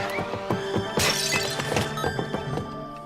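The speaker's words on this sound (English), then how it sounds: "Speaking of smashing pots," Clay pots shattering in a video game, a rapid series of sharp breaking crashes with ceramic debris, loud and close, one especially heavy smash near the middle.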